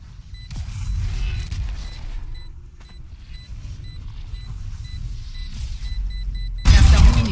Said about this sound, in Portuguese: Eita, que tiro.